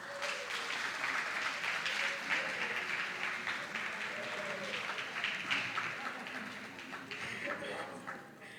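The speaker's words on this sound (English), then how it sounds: "Can we give them a clap?" Audience clapping for visiting pupils from Nazareth Montessori School at a school quiz contest, moderate steady applause with audible individual claps and some voices underneath, tapering toward the end.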